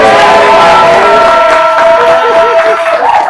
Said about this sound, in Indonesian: Tepuk tangan untuk Polri itu beriah